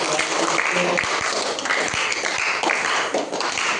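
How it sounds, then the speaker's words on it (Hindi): Classroom applause at a school spelling bee competition in an Urdu-medium school, a dense, steady wash of many hands clapping, loud and close throughout with faint voices mixed in. "इसके लिए जोरदार तालियां"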